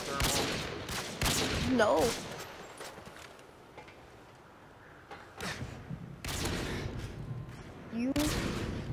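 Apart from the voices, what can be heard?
gunfire in video game Modern Warfare 2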